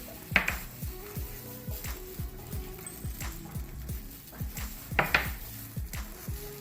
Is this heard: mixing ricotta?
yes